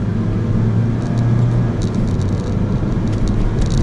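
A Mitsubishi Lancer's engine revs high while driving, a loud, steady rumbling drone with road noise, heard from inside and unbroken by speech.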